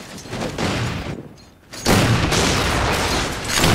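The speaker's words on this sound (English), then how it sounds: "I threw a grenade on myself" Halo 4 combat: a loud grenade blast at close range, then a sustained burst of gunfire and explosive chaos, with a brief quieter dip in between before the heavy firing resumes.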